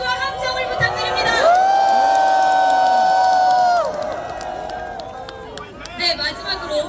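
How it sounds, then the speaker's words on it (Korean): A large crowd at an outdoor candlelight rally on the National Assembly steps cheers loudly, with sustained shouts rising together in a long swell before settling into murmuring and scattered calls. "여러분 다시 한번 큰 박수와 함성을 부탁드립니다"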